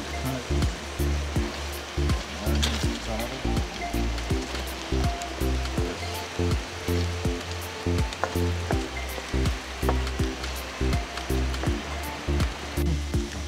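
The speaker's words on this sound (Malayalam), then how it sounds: "അപ്പം നമുക്ക് തേങ്ങാപ്പാൽ ഇതിൽ ആഡ് ചെയ്ത് കൊടുക്കാം" Coconut milk goes into a simmering kanthari fish masala curry, giving a constant loud sizzle and bubbling hiss with rhythmic pulses throughout, no voices heard.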